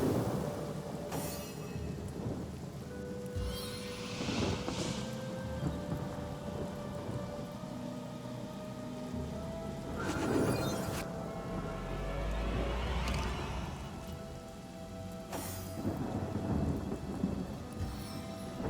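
Steady rain pours throughout in the game Divinity: Original Sin Enhanced Edition, broken by several deep rolls of thunder rumbling at intervals, with no voices.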